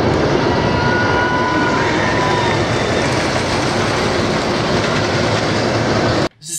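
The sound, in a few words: Wild One wooden roller coaster running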